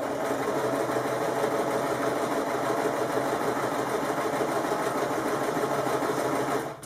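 A sewing machine runs in one continuous, even burst, its needle chattering rapidly and steadily at close range while it stitches down the length of a fabric bookmark, then stops abruptly.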